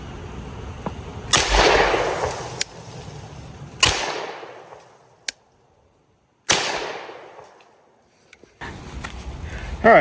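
Shots from a CZ Scorpion EVO3 fired at a range, three sharp separate reports spaced a few seconds apart, each trailing a long echoing decay, with faint background noise between them.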